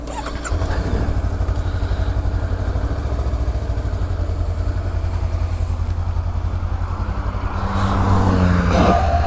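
A Honda Rebel 500 motorcycle riding in hot Tucson, Arizona, its engine droning steadily and close throughout, swelling louder near the end, with wind noise mixed in and no talk.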